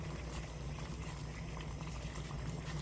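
Water boils hard in a pot with a spoonful of roasted grain for drinking, a dense continuous bubbling roar with low rumble, steady and close, no voices.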